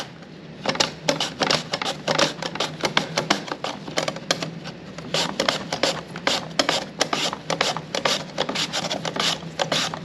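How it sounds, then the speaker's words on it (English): Apple sliced on a mandoline, a steady run of quick rhythmic scraping strokes, close and fairly loud, continuing evenly throughout without talk. "Mandolin back over. And we'll do some nice slices of apple."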